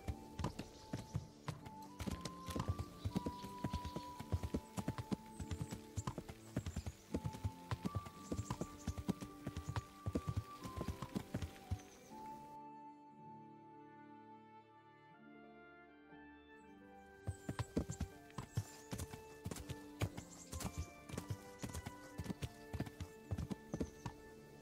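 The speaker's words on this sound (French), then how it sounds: "Je vois des chevaux, est-ce que ce serait pas une écurie?" Horses in Kingdom Come: Deliverance clip-clop in an uneven, busy rhythm of hoof strikes over a background of music, then fall quiet for a few seconds before the hoofbeats return.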